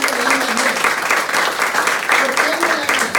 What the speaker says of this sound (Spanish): ¿Por qué no le dan un aplauso a estas mujeres?